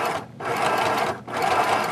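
Sewing machine stitching along a folded edge of fabric, running steadily in two bursts with a brief pause between, close and alone with no talk.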